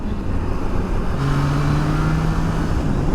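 A Triumph Tiger Sport 660 three-cylinder motorcycle engine drones steadily up close, its buzzing hum rising slightly in pitch as it revs, with rushing wind noise throughout.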